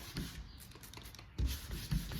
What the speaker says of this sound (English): this is the sanding process that takes the longest, because this is where you're removing the excess material and trying to get it level